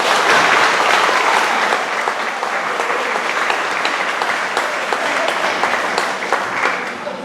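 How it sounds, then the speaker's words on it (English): Sustained loud applause from an audience after a students' drumming performance at a children's Okinawan culture day camp, dense clapping filling the room steadily before easing slightly at the end. "How about another round of applause for the great job our students did?"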